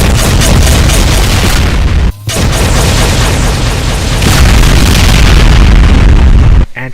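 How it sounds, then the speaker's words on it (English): Rapid-fire spread of round BFG shots in a DooM mod: a dense, continuous barrage of loud booming blasts, almost unbroken, with one short dip partway through. "rapid fire spread of round BFG shots"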